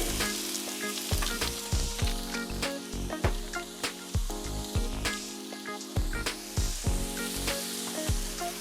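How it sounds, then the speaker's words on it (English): Garlic butter crackles and sizzles on a hot Blackstone griddle, a dense, close, continuous frying hiss with sharp pops and spatters throughout. "garlic butter to the griddle."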